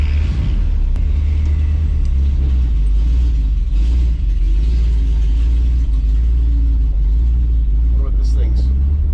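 A 1978 Ford F350 crew cab with a big-block engine idles roughly, a loud, heavy, continuous low rumble close by that wavers unevenly, with brief faint voices near the end.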